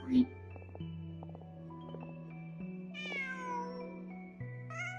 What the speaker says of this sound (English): Just a cat. Nothing else here.